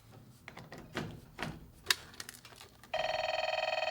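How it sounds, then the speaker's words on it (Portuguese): Two keypadless novelty telephones wired together without a phone line: soft handling clicks and knocks, then a loud, steady pulsing ring tone starts abruptly and repeats rapidly. "eles realmente parecem estar fazendo uma ligação telefônica"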